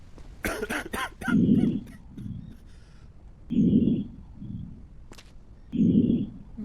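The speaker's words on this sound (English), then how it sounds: "But he does have a cough." A sick patient character in the game Quarantine Zone coughs in three separate heavy bursts spaced about two seconds apart, each with a smaller follow-up, alone over faint background hum.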